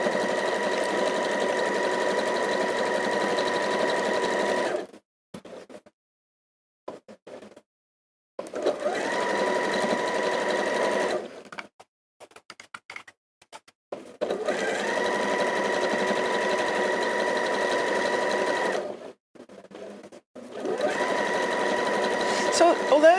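A sewing machine stitches a quilt star in long steady runs of rapid, even whirring, broken by short pauses between seams, loud and close.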